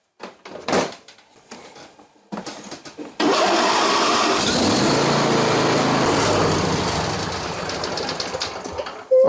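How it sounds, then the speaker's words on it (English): A John Deere LA165 lawn tractor engine cranks and catches, then runs at a steady, loud, buzzing idle for several seconds, with a few clunks before it starts. "we're going to start the engine up, let it circulate"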